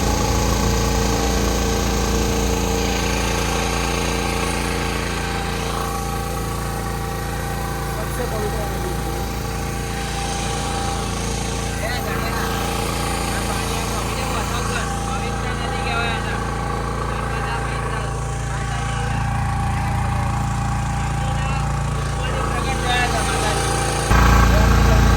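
Motor boat engine running on the Kaveri river during a personal boat ride, a steady droning hum throughout with people talking over it.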